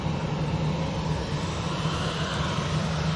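A Jet2 Boeing 737 airliner at Manchester Airport gives a steady, broad engine roar, moderately loud and unbroken, heard from some distance across the airfield.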